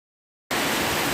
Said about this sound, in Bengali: দেখো বাইরে ভালো বৃষ্টি হচ্ছে